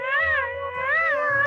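A cat meows twice in a row, each call a drawn-out, wavering tone that rises and falls, close and clear with no talking over it.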